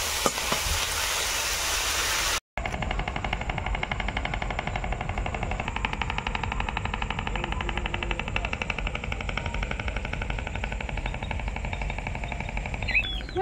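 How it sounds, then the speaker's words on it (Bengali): Vegetable stalks and potato pieces fry in hot oil, a steady dense crackling sizzle running continuously after a brief cut near the start, close and fairly loud with a few faint clinks of a utensil. "প্রথমে এই ডাঁটা আর আলুটা একটু ভেজে নেবো"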